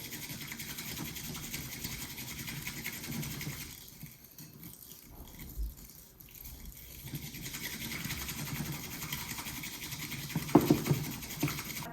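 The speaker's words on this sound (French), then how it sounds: "je viens fouetter du coup le matcha" Matcha is whisked with a splash of water in quick, rhythmic scraping strokes close to the mic. The whisking drops away briefly midway, then resumes.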